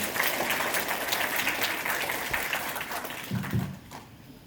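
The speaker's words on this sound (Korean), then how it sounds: "큰 박수 부탁드립니다" At a Korean language program completion ceremony, the audience gives sustained applause that fades near the end, with a brief low voice or noise rising underneath before the room quiets.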